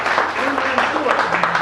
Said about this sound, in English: told you you got a round of applause when I mentioned her name